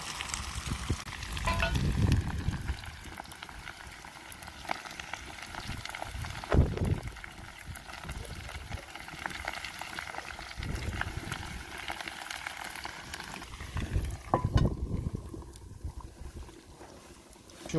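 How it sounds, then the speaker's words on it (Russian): Potatoes sizzle and crackle steadily in a pan, broken by occasional louder scraping and stirring bursts; no talking. "картофанчик жарится."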